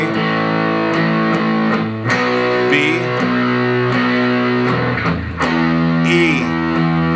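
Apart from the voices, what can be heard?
electric guitar played through distortion pedal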